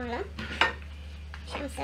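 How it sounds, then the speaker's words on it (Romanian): Metal utensils clink and scrape against a cooking pot as a cooked shrimp is lifted out, a few sharp close clatters among quieter stirring sounds. "Cum am să-mi iau unul de aici din oală"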